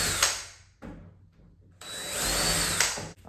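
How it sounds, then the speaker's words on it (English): Power drill driving screws into a wooden ledge for an HO-scale model train layout, two whirring bursts separated by a brief pause, close and fairly loud, no speech. "That's all we need to fasten some screws into here."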